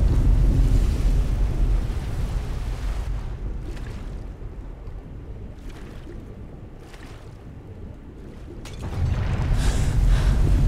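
Rushing water rising in Skyrim, a loud continuous roar of surging flow that dips and softens in the middle before swelling back up strongly near the end.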